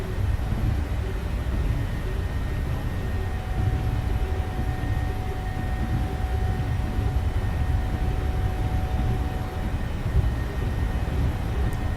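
Boeing 737 engines at takeoff thrust during the takeoff roll roar as a loud, continuous, heavy rumble with a steady whine, heard from inside the cockpit without interruption.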